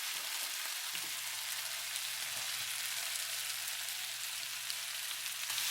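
Green onion frying in a hot pan of oil while cooking XO sauce chicken wings, a steady, dense sizzle with crackling spatter that runs continuously at close range, with no talking.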